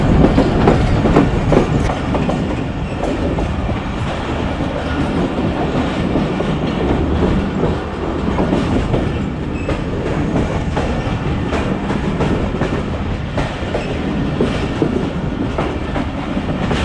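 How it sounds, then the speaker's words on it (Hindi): The 45UP Pakistan Express runs on the rails on the Khanewal–Wazirabad branch line toward Abdul Hakim, with a steady loud rumble and rhythmic clickety-clack of wheels over rail joints, heard close from on board. "ट्रेन इस वक्त अब्दुल हकीम के लिए अप्रोच बना रही है"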